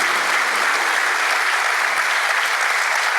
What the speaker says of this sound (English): Please join me in a round of applause for the Minister and for Lina.